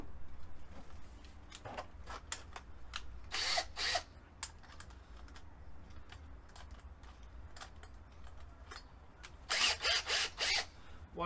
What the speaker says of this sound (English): I turn the drill on reverse so it actually burns its way through the plastic